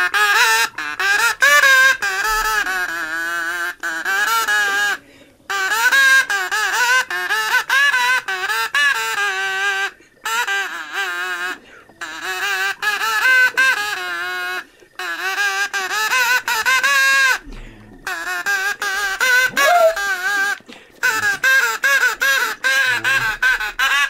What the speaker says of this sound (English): What would be a good Ocarina song to play on the duck whistle?